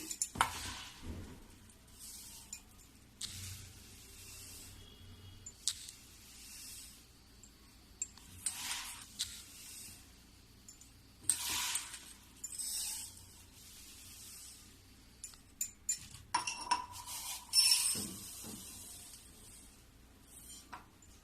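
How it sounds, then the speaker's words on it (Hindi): Dry granulated sugar poured glass by glass into a container for homemade orange sharbat powder, a series of soft rustling, hissing pours in separate bursts with pauses between, close and moderately quiet. "अब इसी गिलास से मैं 6 गिलास चीनी डालूंगी"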